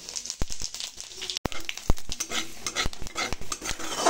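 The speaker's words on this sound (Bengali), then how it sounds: "কড়াইতে সামান্য পরিমাণে সাদা তেল দিয়ে ফোড়ন দিয়ে দিচ্ছি।" A tempering of dried chilli, bay leaf and fennel fries in a little white oil in a kadai, crackling and sizzling up close while a utensil clinks and scrapes against the pan in quick irregular strokes.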